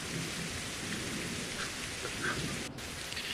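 Steady, dense rain pours throughout in the co-op horror game Better Late Than DEAD, a loud continuous hiss with a faint rumble of thunder underneath and no voices.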